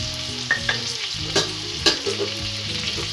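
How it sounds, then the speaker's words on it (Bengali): Cumin and Kashmiri chilli powder are stirred into a sizzling pan mixture for a chhana bora curry. Several scrapes and knocks of a spoon ring out over a continuous close fry hiss. "সব উপকরণগুলো ভালো করে মিশিয়ে নেব"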